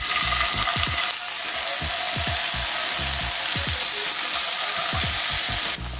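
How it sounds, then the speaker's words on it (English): Tofu frying in a skillet of olive oil, butter and garlic slices gives a loud, steady close sizzle, with repeated low clicks and scrapes of stirring or turning throughout and no talking. "So in my skillet, I have olive oil, butter, and I'm gonna add some garlic slices."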